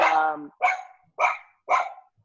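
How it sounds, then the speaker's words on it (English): A small dog barks in an episode of the animated Star Wars: The Clone Wars, four sharp yappy barks spaced about half a second apart, loud and clear with no speech. "It's a tiny little space dog."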